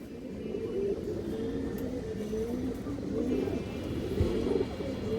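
Pigeons coo in a low, steady murmur, several birds overlapping continuously in a loft where high flyer and tumbler pigeons are kept, with a faint rumble of distant traffic or rail underneath.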